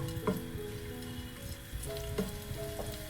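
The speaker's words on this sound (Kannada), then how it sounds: "ಎರಡನ್ನು ಸ್ವಲ್ಪ ಕೆಂಪಾಗೋ ತನಕ ಫ್ರೈ ಮಾಡ್ಕೊಳ್ಳೋಣ." Finely chopped garlic and ginger fry in hot oil with a soft, steady sizzle, quiet and close, with a couple of sharp utensil taps against the pan and no voices.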